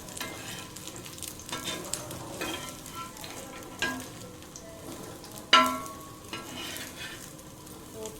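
Yam pieces, already half-cooked and coated with salt and spice, fry in a pan and get turned, with a steady low sizzle broken by occasional scraping clinks of the spatula against the pan.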